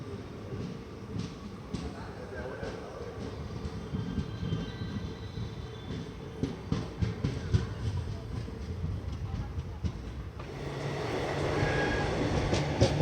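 An Indian passenger train on the Vijayapura to Mangalore route crosses the Mysuru Pandharpur Gol Gumbaz Express after leaving Davangere, heard from on board as a steady rumble with rhythmic wheel clatter that grows louder near the end.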